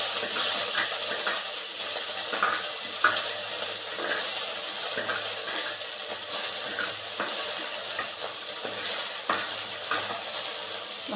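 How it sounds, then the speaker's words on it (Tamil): Okra sautés in a little oil in a clay pot, a continuous sizzle punctuated by repeated stirring scrapes and light spoon clinks. "ஸோ லைட்டாக கொஞ்சம் எண்ணெயில் வெண்டைக்காவை வதக்கிக்கலாம்."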